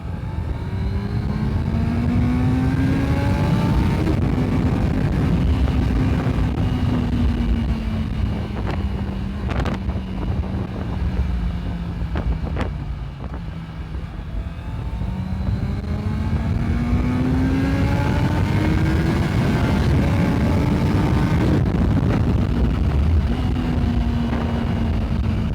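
A Honda CBR650F inline-four sport motorcycle on a ride in India, its exhaust note rising and falling through revs in long sweeps, loud and steady beneath heavy wind rush.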